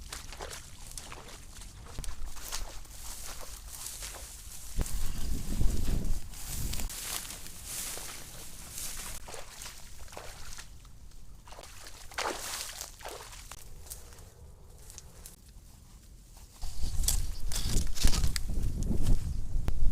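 Budget hiking shoes tramp through deep waterlogged mud on a trail, giving wet squelching and sucking steps at an uneven pace, some close and heavier, with quieter stretches between them.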